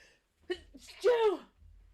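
A single close sneeze, a short sharp burst after a quick intake of breath, in an otherwise quiet room.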